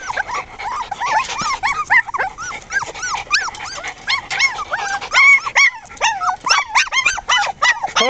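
Litter of roughly five-week-old puppies whimpering, yipping and giving small high barks, a busy overlapping chorus of squeaky cries close by, rising and falling in irregular bursts.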